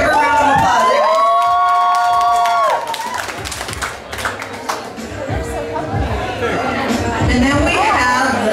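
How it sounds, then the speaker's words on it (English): A fashion show audience claps, cheers and shouts, loud and crowded, with a musical tone early on and voices whooping over steady clapping. "Give her a round of applause."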